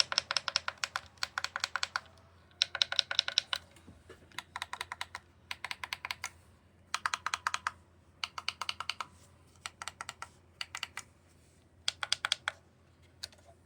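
Bursts of rapid plastic button clicks from Simagic GT Neo and FX-C sim racing wheels come in quick clusters separated by short pauses, close and fairly quiet, with no voices.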